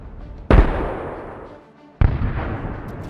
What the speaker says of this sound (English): An RPG was ready. The shot. A hit.